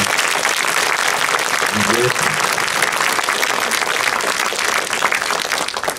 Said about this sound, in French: je vous demande d'applaudir encore une fois chaleureusement